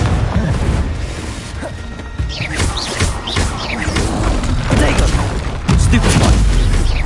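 Confringo blast spells in Hogwarts Legacy burst in a run of sharp, loud explosive hits, one after another, over rumbling game action.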